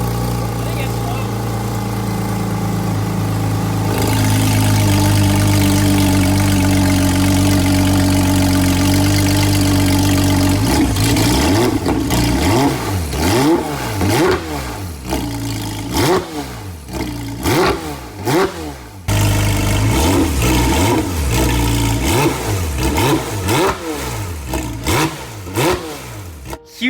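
Engine of a rebuilt 2022 Porsche GT3 with a Valvetronics exhaust, heard starting and idling with a steady loud drone, then revving hard in a series of sharp, repeated throttle blips that rise and fall.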